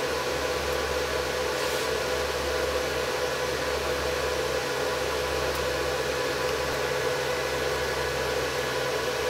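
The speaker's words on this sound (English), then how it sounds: "the compressor is starting to slow down" Heat pump compressor on a used VFD, running as a steady broadband mechanical hum with strong low drone, continuous and close, gradually easing as it nears its set point.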